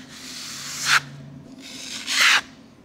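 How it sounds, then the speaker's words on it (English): A broad knife scrapes ready-mix filler across a scratch in a wall in two firm, rasping strokes, close and fairly loud, with a short pause between them. "Just using my nice clean broad knife, take a little bit of our ready filler, and I'm just going to apply that"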